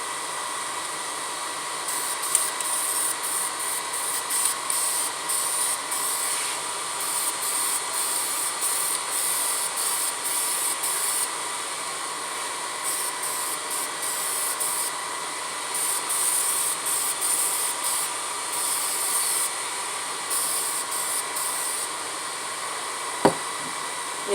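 Aerosol spray paint hissing steadily onto a small wiper part from a 1974 Plymouth Duster with a slant six, close and continuous with brief on-off pulses throughout.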